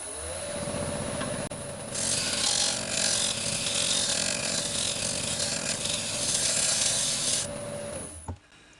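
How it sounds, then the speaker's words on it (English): A small round-tip carbide cutter smooths brittle dry wood on a lathe-turned bowl with holes, producing a steady whirring hum that swells into a harsh, scraping hiss of cutting for several seconds, then settles back before stopping. "I'm just going to smooth it off a bit with the carbide cutter, little round tip carbide cutter."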